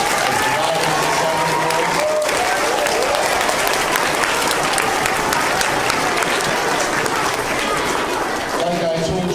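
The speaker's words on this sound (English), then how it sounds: "I'd like you to give a round of applause to the PTO ladies that are here today" A school audience applauds the PTO ladies, dense continuous clapping from a large crowd filling nearly ten seconds at high, even loudness, with a voice briefly audible near the start and end.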